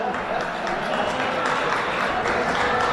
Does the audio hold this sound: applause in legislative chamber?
yes